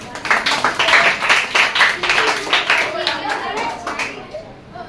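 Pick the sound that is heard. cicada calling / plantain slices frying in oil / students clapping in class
students clapping in class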